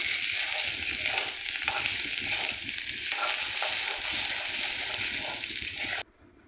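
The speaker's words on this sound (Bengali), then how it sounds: "দেখো ভাজাটা প্রায় হয়ে গেছে" Steady, loud sizzling of onions frying in a pan, with occasional stirring scrapes, continuous for several seconds before cutting off abruptly near the end.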